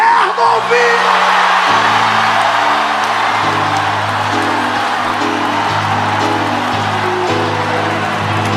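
A church congregation shouts and cheers together at a preacher's call, a loud sustained crowd roar with whoops and yells over steady organ or keyboard chords throughout.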